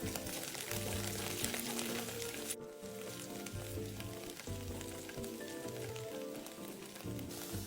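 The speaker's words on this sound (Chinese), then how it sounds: "香菇100克切成丁，倒入锅内煸一煸香" Diced shiitake mushrooms stir-frying over medium heat in fried scallion oil, a steady crackling sizzle with occasional stirring clatter, fairly quiet and with no talking.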